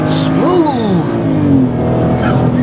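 A 2013 BMW X1 xDrive35i launches hard from a standstill toward 60 mph, its engine revving loudly through rising gear sweeps inside the cabin, with brief tire noise and a voice talking over it.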